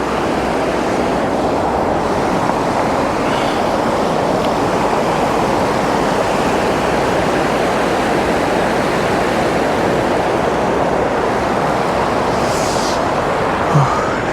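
Loud, steady roar of a rushing river beside a homestay near a waterfall on the Jalori Pass road, a dense continuous wash of water noise that fills the whole stretch without pause.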